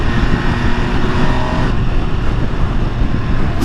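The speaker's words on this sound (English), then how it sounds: "Stock exhaust is what you're hearing right now." Engine and stock exhaust of a 2022 MV Agusta Dragster 800 RR motorcycle, a loud, close, steady rumbling drone that holds throughout with a slight change in tone partway, no talking.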